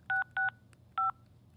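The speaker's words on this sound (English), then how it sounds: "then we hear him push the touch tone DTMF, that dual tone multi-frequency buttons on his phone to dial out" Touch-tone DTMF telephone dialing: three short dual-tone beeps, two in quick succession then a third after a pause, loud and clear over a low steady hum.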